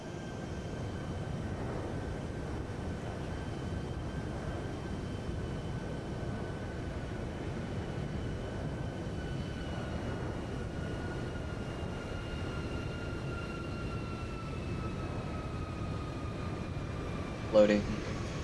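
A Boeing 737-800 in Microsoft Flight Simulator 2020 runs its engines as a steady, droning roar with high whining tones through the whole stretch, loud and unchanging, and one brief knock near the end.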